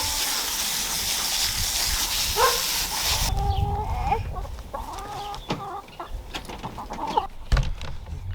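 Chickens cluck and murmur nearby, with scattered bird calls over a rushing hiss of water that cuts off partway, then scuffling and a few sharp knocks.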